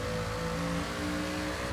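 Supercharged Chevelle 454 SS V8 in Forza Horizon 3 held near its 7,500 RPM redline, a loud, steady, high-pitched engine scream with layered harmonic tones and no talk.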